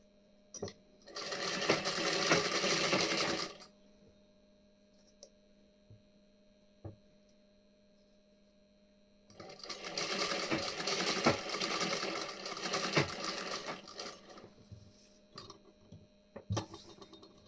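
An electric sewing machine stitches a back-neck design on a blouse in two long runs of rapid, close mechanical whirring, separated by quiet gaps with a faint mains hum and a few small clicks.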